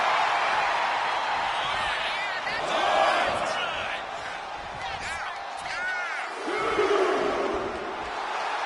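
Dense arena crowd noise from a WWE 2K25 wrestling match on PS5, a steady roar with whoops and swelling cheers rising around the three- and seven-second marks, continuous and loud throughout.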